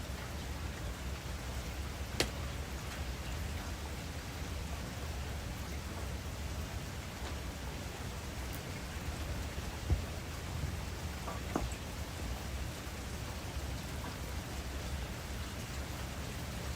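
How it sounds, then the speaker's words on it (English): Cold, heavy rain falls steadily outdoors, a dense continuous hiss across the whole stretch with a few brief louder drips or taps standing out. "Cold and raining. A lot of rain."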